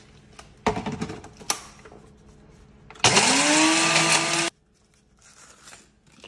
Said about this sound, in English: those bread pieces into your blender.